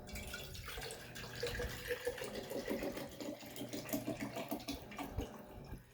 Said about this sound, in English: and you put your distilled water in your quart jar.